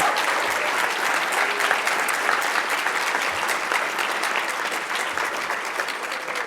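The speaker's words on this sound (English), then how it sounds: "please join me in giving them a big round of applause" Dense, steady applause from a large conference audience at a closing plenary continues evenly throughout, with no voices standing out above the clapping.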